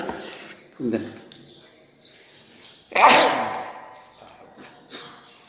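A single loud, close sneeze bursts out in a room during a religious talk, preceded by short breathy sounds and followed by faint lighter noises.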